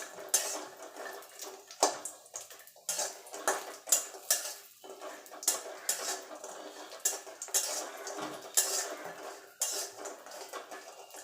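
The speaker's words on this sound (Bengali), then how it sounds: "এবার এই তেলেই আমি বড়িগুলো ভেজে নেব।" Lentil dumplings (bori) fry in the oil left from frying cumin, and a utensil scrapes and stirs against the pan. The clinks and scraping run on top of a soft, steady sizzle, close by, with no talking.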